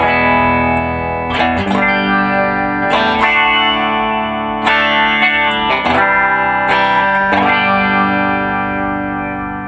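An electric Telecaster-style guitar with hand-wound pickups plays sustained, overdriven chords through a Marshall Studio Vintage tube amp with no reverb, several strummed changes ringing out thick and crunchy.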